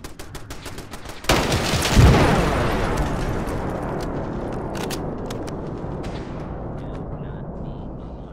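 Gunfire from an RU556 assault rifle in modded Fallout 4 sounds as a sudden burst of rapid shots, then a loud boom and a long rumbling decay with scattered later cracks.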